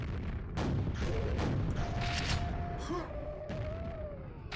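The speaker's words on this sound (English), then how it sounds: "a whole bunch of grenades just thrown at us" Grenade explosions in the video game Quake, several sharp blasts with bursts of noise over a busy game soundscape, a brief tonal whine running through the middle.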